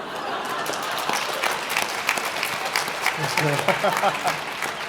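A live podcast audience claps in a moderate burst of applause, fairly close and steady, with some voices mixed into the crowd noise.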